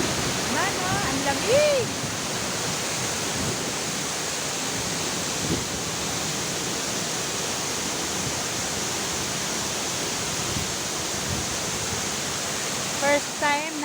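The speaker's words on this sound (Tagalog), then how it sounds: "Ayan ang falls." Hinulugang Taktak waterfall roars as a steady, dense wash of falling water that fills the whole stretch, with a brief voice speaking near the start and some faint chatter near the end.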